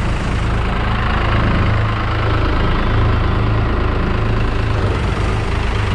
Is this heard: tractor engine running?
yes